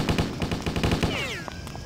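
Rapid automatic gunfire rattles in a zombie shooter video game: a fast, loud, evenly spaced burst of shots, closing with a descending whistling ricochet tone.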